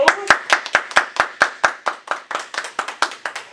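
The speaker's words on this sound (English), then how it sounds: "Let's go ahead and clap it up, people." A small group of people clapping in rhythm, crisp sharp claps coming fast and close together, loud and close, with no voices over them.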